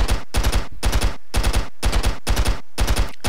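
Loud bursts of automatic gunfire in the video game Stick Arena, arriving as a regular series of short volleys, each a tight cluster of shots separated by brief gaps, close and alone with no talk.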